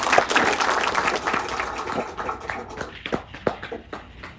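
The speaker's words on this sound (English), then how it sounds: "Let's give that man a round of applause" A round of applause for a podcast guest: clapping that starts fairly dense and thins into scattered, separate claps toward the end, close and moderately loud.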